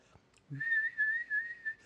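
A human voice imitates a high-pitched fluttering whistle, a thin shrill tone sustained for over a second with a slight wavering flutter, close and alone after a brief breath.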